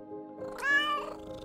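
A single clear cat meow rises and falls in the middle, close and fairly soft against a quiet background.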